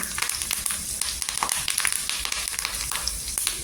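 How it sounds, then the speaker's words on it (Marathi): Cumin seeds and curry leaves, with garlic already in the pan, sizzle in hot oil for a tadka, giving a steady crackling hiss with dense sharp pops throughout. "इथे तेल टाकलेलं आहे, इथे जिरं टाकायचं, जिरं छान असं तरतरलं पाहिजे"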